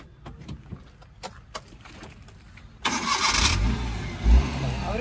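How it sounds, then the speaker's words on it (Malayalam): A Maruti Omni van on its stock exhaust, heard first as faint clicks and knocks, then cranking and catching into a close, loud engine run with a short rev before settling. "നമുക്ക് എന്തായാലും ഈ ഒരു വണ്ടിയുടെ എക്സോസ്റ്റിനോട് ഒന്ന് കേട്ട് നോക്കാം"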